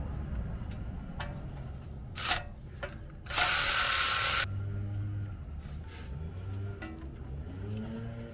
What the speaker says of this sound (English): We're now going to remove the 10 millimeter bolt that holds the ABS sensor to the steering knuckle.